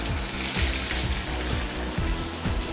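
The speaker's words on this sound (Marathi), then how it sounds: "हे जे तिखट आणि मीठ आपण ठेवलंय त्याच्यावर आपल्याला हे गरम तेल ओतायचं आहे." Hot garlic oil poured over chili powder and salt crackles and sizzles in a steady, dense, close hiss with small popping bursts throughout, with no talking.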